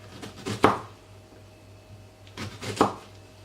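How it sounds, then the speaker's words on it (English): A knife slices an onion into thin slices, heard as two short bursts of crisp cutting strokes on a board, fairly close and moderately loud, separated by a quiet pause. "I always start off with my onion and I literally just do thin slices right through to the end of the onion"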